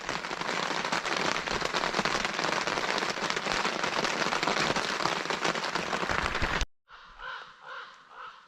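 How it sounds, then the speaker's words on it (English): Steady, dense rain falls close by for several seconds, then stops abruptly, leaving a few crow caws in the quiet. "The rain's let up just a little bit."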